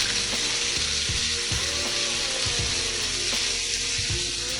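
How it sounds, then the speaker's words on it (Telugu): Onion pieces and tomato sizzle in a spoonful of oil in a pan, a steady, even hiss with faint scattered pops and clicks, close and fairly quiet, with no talking. "అదే పాన్లో 1 స్పూన్ ఆయిల్ వేసి కట్ చేసిన ఉల్లిపాయ ముక్కలు, టమాటా కూడా వేసి బాగా కలుపుకొని మూత పెట్టి మగ్గనిద్దాం"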